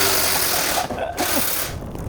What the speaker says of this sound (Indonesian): Baru sekali nyalain mesin ditontonin banyak.